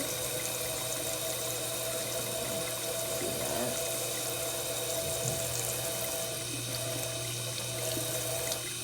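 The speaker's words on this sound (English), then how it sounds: "very gently I'm just pouring out the vinegar and catching the egg" Vinegar poured gently out of a glass jar during a naked-egg experiment, a steady watery trickle and splash running continuously at low level, with a brief spoken remark.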